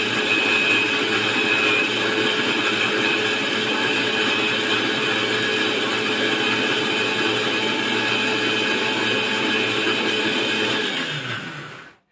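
An electric mixer grinds a cooking paste with a loud, steady whirring drone that runs unbroken and then cuts off abruptly at the end.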